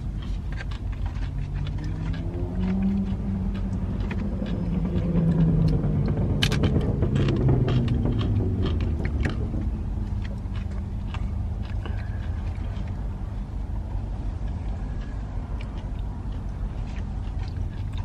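Loud cars passing on a street outside in Lima make a continuous low traffic rumble. One vehicle swells louder mid-way before fading back into the steady drone, with faint chewing noises close by.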